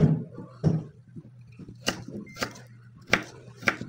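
Ginger being chopped into strips on a board for fish paksiw with kamias: a series of sharp knife knocks, a couple close together early then single chops at steady intervals, fairly loud and close, with no talk over them.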